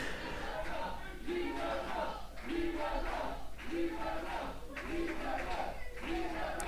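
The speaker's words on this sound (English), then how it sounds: "The crowd chanting, "You were robbed," and it's hard to disagree with them." An indoor wrestling crowd chants in a steady, repeated rhythmic phrase, each call rising and falling in regular beats with claps, heard a little distant in the arena.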